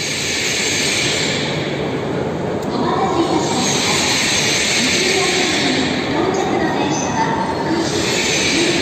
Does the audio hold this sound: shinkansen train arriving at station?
yes